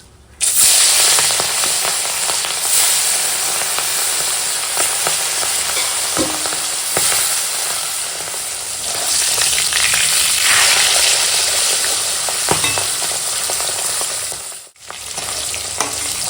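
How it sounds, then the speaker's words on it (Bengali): Turmeric- and salt-coated rohu fish pieces sizzle loudly in a pan of oil, a continuous close crackling hiss with occasional sharper pops and a short dip near the end. "তো দেখো এখন মাছগুলো ভাজা হয়ে গেছে"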